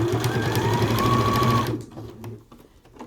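A home sewing machine stitches fabric for a T-shirt coverall bib in a steady motor whir that runs for about a second and a half, then stops. Quieter clicks of handling follow.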